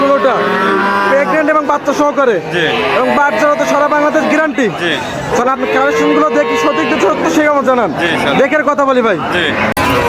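A large Holstein Friesian dairy cow moos repeatedly at a cattle market, loud and close, the drawn-out calls overlapping with steady talk from people nearby.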